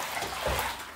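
A cold shower runs steadily, a dense, even hiss of falling water with a slight swell midway, heard alone with no talking.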